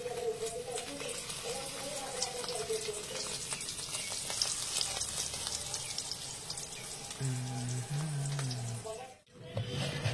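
Small fish seed fritters fry in hot oil with a steady, dense sizzle that stays close and continuous, while a voice talks underneath and brief tonal sounds come and go.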